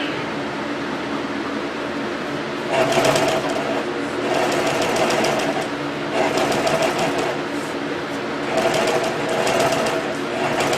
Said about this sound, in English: That machine here has enough power to punch right through your fingers.